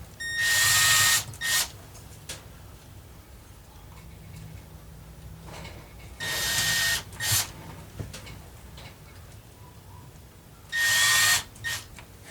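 Three short bursts of a small power drill with a 3mm bit boring locating holes for a guitar pickup ring, each a couple of seconds long with brief revving, separated by quiet pauses.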